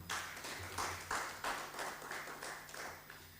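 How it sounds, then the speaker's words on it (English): An audience at a plenary session of an international conference on regenerative ecosystems gives a round of applause. It is an even, moderately faint patter of many hands clapping, with no talk over it. "Please give a round of applause for him."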